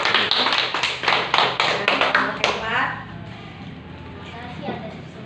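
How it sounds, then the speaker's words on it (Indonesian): Applause from a small audience at a teacher-training class presentation at Universitas Pendidikan Muhammadiyah Sorong: several seconds of brisk, fairly close clapping that fades out into quiet room tone. "Kita berikan aplaus."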